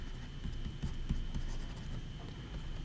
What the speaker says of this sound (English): let me just write up top here